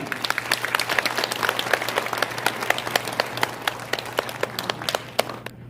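A church audience gives a guest professor a welcoming round of applause before his lecture: continuous, fairly dense clapping that carries on throughout and thins out at the very end.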